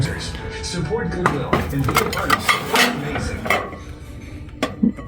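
Ceramic plates clink and knock against each other in a run of sharp, close clatters, with a voice talking faintly beneath.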